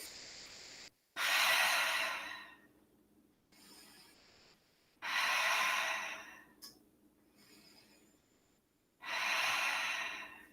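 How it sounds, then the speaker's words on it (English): Slow, deep yoga breaths in a quiet studio, three long audible exhales spaced several seconds apart, close and alone, with faint softer breathing between them. "Breathing."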